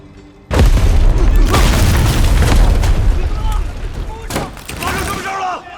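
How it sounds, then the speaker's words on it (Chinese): A sudden, very loud explosion of cannon shells at a workshop bursts in after a brief quiet and rolls on as a heavy, sustained rumble with crackling debris, fading slightly toward the end amid voices. "发生大爆炸了！"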